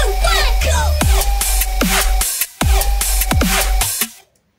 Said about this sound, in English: you can listen to the dubstep growl over there